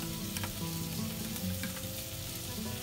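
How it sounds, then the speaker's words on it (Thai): Ham and cheese croquettes deep-fry in hot vegetable oil, a dense, even bubbling sizzle heard close and steady, with no talking. "น้ำมันพืชนะคะตั้งไฟร้อนแล้วก็ใส่โครเกตลงไปทอดเลยค่ะ"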